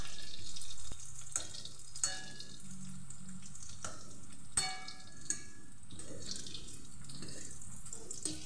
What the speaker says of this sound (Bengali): উল্টে দিয়ে অপর পাশটাও ভালো করে ভেজে নিচ্ছি।